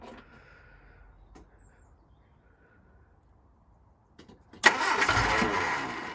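A Rover SD1 car engine cranks with faint starter clicks after a quiet stretch, then catches and roars loudly into a rough, rising run, close by with no talking.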